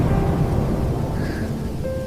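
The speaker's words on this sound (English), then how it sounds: "Such a storm tonight." A night thunderstorm rumbles low and heavy over steady rain outside a forest cabin, a dense continuous wash of sound with no voices.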